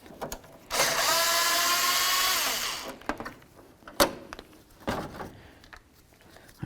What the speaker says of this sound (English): Now we're going to remove the mounting bolts that hold on this whole plastic grill assembly here.